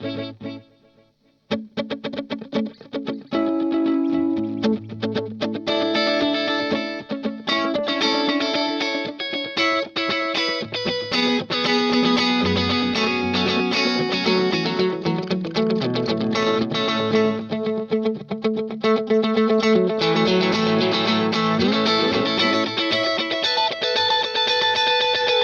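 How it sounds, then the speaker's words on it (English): Electric guitar through a Source Audio Encounter delay and reverb pedal on a drum echo setting, playing a continuous loud passage of chords and notes with repeating echoes and a thick, slightly distorted, chorused wash. "And I've got a drum echo here."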